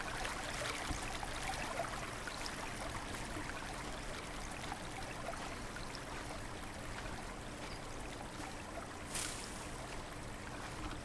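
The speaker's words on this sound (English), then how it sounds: "we're gonna stay down into this water stream" Steady running water of a stream in the hunting game Cabela's Hunting Expeditions, a continuous broadband wash with soft trickling texture, heard alone at a constant level for the whole stretch.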